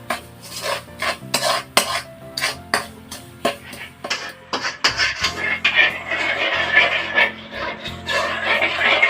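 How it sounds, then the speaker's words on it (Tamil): Sugar melting in a pan for crunchy sesame candy is stirred continuously, a utensil scraping and clinking against the metal in a steady series of sharp strokes, close and moderately loud, with a rising sizzly hiss in the second half. "விடாமல் கிண்டிகிட்டே இருக்கணும்."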